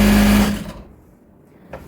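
A sewing machine stitches hoodie fabric in a loud, close whirring run that stops abruptly partway through, followed by near silence and a faint brief sound.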